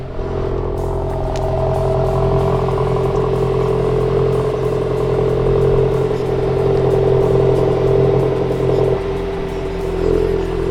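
A Volkswagen Mark 8 GTI with the stock exhaust, a tune and an aftermarket intake accelerates on a mountain highway. Its steady, loud engine drone and road rumble are heard from inside the car and continue without a break, with no speech.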